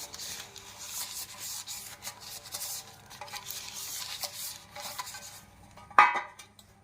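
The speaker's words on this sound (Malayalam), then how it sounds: "ബട്ടർ പൊതിഞ്ഞു വരുന്ന പേപ്പറിലെ ബട്ടർ എടുക്കാനായിട്ട് നമുക്ക് ഇതുകൊണ്ട് ഇങ്ങനെ ഈ പാത്രം ഗ്രീസ് ചെയ്തെടുക്കാം." Butter wrapping paper is rubbed around the inside of a cake pan to grease it for a cocoa cake, making a soft, close scraping and rubbing sound that continues steadily and ends with a brief louder knock.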